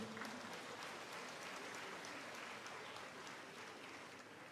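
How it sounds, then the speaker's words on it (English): Sustained applause from a large gathering at a long life offering ceremony for the Dalai Lama, a continuous dense wash of clapping heard from a distance and quite faint, tapering slightly toward the end. "please give yourself a round of applause"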